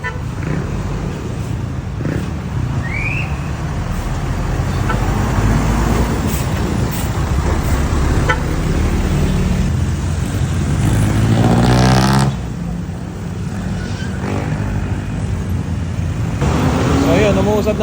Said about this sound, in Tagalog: Umuusad naman yung traffic natin dito.